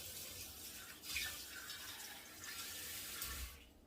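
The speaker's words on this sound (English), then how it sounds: "So let me get some water here." Water runs steadily from a kitchen tap into a pan, a soft continuous splash that shifts slightly in tone as the pan fills, then cuts off at the end.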